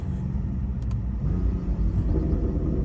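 A BMW M4 Competition driving along the Pacific Coast Highway gives a couple of sharp, quick exhaust pops over a steady engine and road rumble heard from inside the car.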